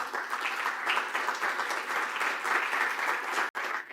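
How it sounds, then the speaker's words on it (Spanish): Audience applause fills the room steadily, a dense even clapping from a crowd welcoming a guest speaker at a physics lecture, briefly cutting out near the end. "Recibámoslo con un fuerte aplauso."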